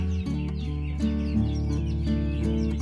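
A greater green leafbird (cucak ijo), a kept songbird, sings a loud, close, continuous run of tonal whistles and chattering notes with short bursts repeating about once a second, heard alone without talk.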